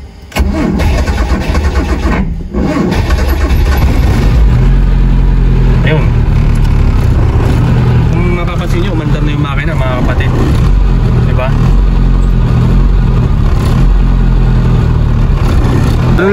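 Car engine that had been switched off briefly and then refused to restart: after a short lull it cranks, catches and roars, then keeps running loudly with revs rising and falling while someone talks over it.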